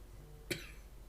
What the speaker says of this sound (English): so hopefully forgive that coughing